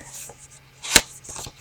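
A paper envelope in a handmade junk journal is handled and opened, giving soft rustles and one sharp, crisp papery snap close by in quiet surroundings.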